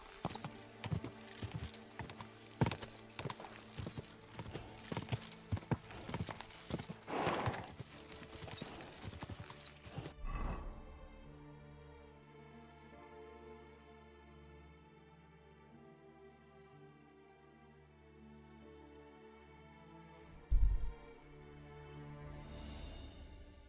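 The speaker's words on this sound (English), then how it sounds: "Easy, good horse." Horse hooves trot in Kingdom Come: Deliverance 2, a steady clip-clop running under busy game noise for about ten seconds, then quieter, with one sharp thump near the end.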